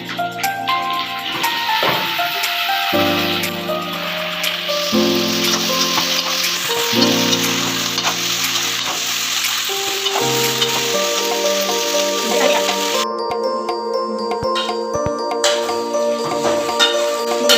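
Okra sizzles and fries steadily in hot oil for a curry, a continuous crackling hiss with occasional stirring clicks, close and fairly loud throughout, with no talking.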